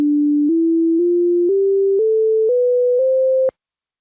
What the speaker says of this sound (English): So that's our first, just an octave being played